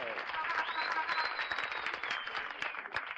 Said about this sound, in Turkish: Bir alkış rica ediyorum lütfen önce Deniz Aker için.